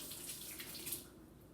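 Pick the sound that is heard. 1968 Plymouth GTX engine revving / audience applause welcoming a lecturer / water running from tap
water running from tap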